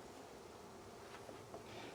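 Honey bees packed beneath the frames of a split hive hum in a steady, dense drone, faint and unbroken, with no voices.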